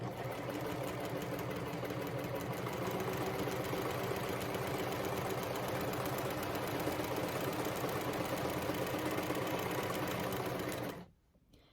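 A sewing machine quilting fabric layers with a walking foot runs in a steady, continuous close-up drone for about eleven seconds, then stops abruptly, leaving near silence.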